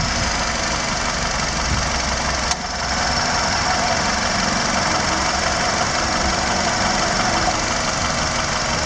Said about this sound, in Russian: Работа на холостом ходу.